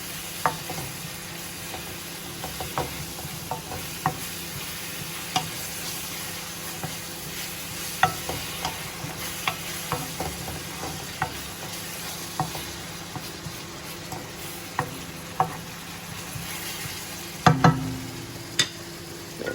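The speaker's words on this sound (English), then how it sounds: "I'm going to put my garlic and ginger in there. And I'm just going to mix that one through." Garlic and ginger are stirred into a simmering butter bean curry, a steady soft sizzle with frequent scrapes and clinks from the spoon against the pot, near and without talk.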